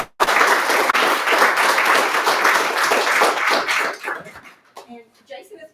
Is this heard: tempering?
no